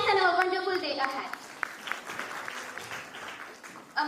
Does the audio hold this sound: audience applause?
yes